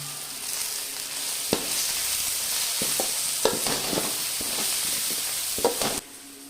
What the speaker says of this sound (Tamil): தக்காளி வதங்கிடுச்சுமா, இந்த ஸ்டேஜில் நம்ம கருவேப்பிலை, கொத்தமல்லி ஆட் பண்ணிக்கலாம்.